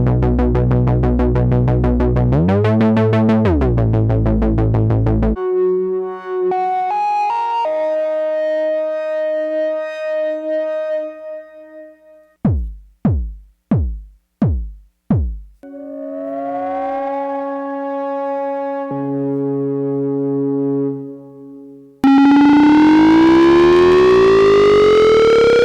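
A series of Bass Station II synthesizer patches: a buzzy chordal drone, bell-like tones, sharp plucked stabs, sliding notes, and a rising swept lead.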